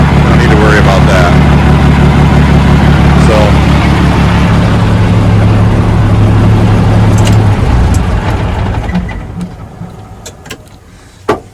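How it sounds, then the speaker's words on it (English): A 1987 Ford L9000 truck engine running loud and close with a low, even rhythmic thump from a hole in the exhaust, steady for several seconds before the engine noise fades, with a voice speaking over it. "She run good. Got a little thump to her because there's a hole in the exhaust"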